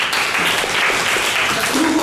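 A lecture audience in a Korean university system programming class breaks into steady applause, a dense even patter lasting the whole moment, loud and close.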